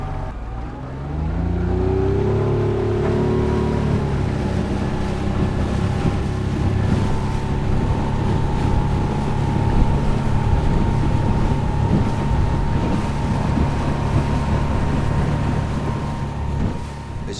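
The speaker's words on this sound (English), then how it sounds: "Just warm the motor up a little bit. We'll do a run down there." The outboard motor of a small inflatable RIB tender starts and then runs steadily at a constant pitch, loud and close, with wind noise over the microphone and no voices.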